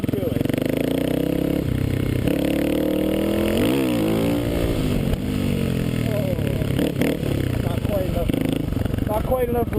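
A Kawasaki KLX250S motorcycle engine revs and pulls hard in second gear for a wheelie, rising and falling in pitch, loud and close, with wind buffeting throughout.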